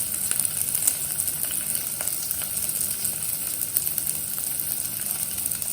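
Curry leaves and hing sizzle steadily in hot oil for a pakoda kadhi, a dense, even, close crackle with tiny pops and faint stirring, no voices over it.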